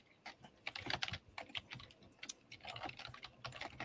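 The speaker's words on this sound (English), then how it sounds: "no, I hear typing" Typing on a computer keyboard, a quick irregular run of light clicking keystrokes in bursts, close but quiet, with no voices.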